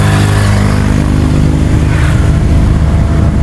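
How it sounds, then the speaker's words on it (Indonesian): Toyota Calya 1200 engine strains hard under load on the road, a loud, continuous mid-pitched drone with a steady rumble and no breaks. "ini mesin Calya 1200 kayaknya keteteran guys"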